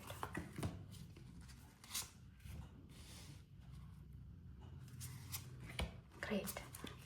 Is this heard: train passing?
no